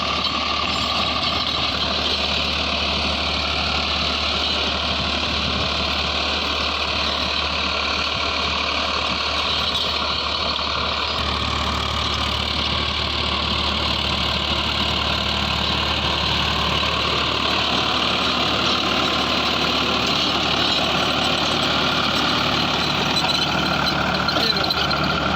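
A Farmtrac 60 PowerMaxx tractor engine runs at full throttle driving an 8-foot Farmtrac rotavator, a loud continuous diesel drone with a slight shift in load partway through, heard up close without pause.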